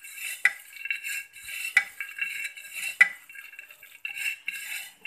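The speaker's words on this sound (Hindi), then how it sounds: "इसको हाथ से मिक्स करने का" Turmeric powder, salt and masala being mixed by hand in a bowl for a Konkani-Maharashtrian kulith zunka, heard as soft close rubbing and scraping with a few light clinks of utensils, no voices.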